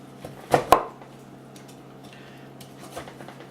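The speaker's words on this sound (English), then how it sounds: "So I'm going to take, and it's frozen, but that's okay. Chop some up here." Frozen mushrooms being chopped for a stew on a cutting board: two sharp knife knocks in quick succession, then a softer scattered tap or two over quiet kitchen hum, with no speech.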